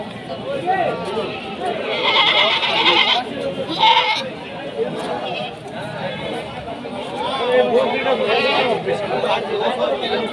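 Goats and kid goats bleat amid a busy livestock market in Rajshahi, with calls rising over steady crowd chatter and people talking throughout.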